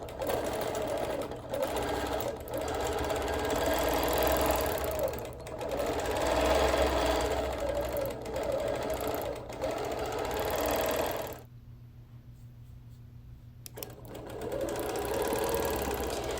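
Sewing machine quilting a feather-pattern quilt, a long steady whirring hum of rapid stitching close by, with small shifts in speed and one pause of a couple of seconds near the end.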